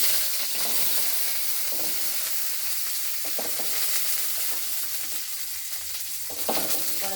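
Shallots fry for beetroot chutney with a steady, close sizzle, and occasional scraping stirs rise above the hiss now and then, with no one speaking.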